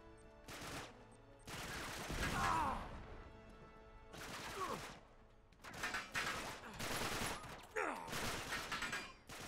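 Heavy gunfire rattles in Uncharted 3: Drake's Deception (Remastered), several loud sustained bursts of automatic shots separated by short pauses, with impacts and crashes mixed in.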